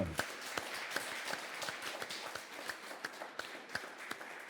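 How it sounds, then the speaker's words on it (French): A fairly small audience in Rennes claps after a film screening, fainter, sparse applause with individual hand claps standing out in an uneven rhythm. "on peut applaudir."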